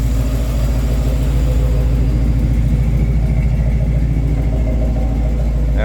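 A 1958 Ford F100 truck engine runs steadily and loud up close, its low rumble holding an even pulse as the revs climb slightly, with no voices over it.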